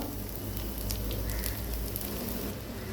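Chopped onion hits hot mustard oil in a pan, making a steady, even sizzle and crackle throughout at moderate level, without speech.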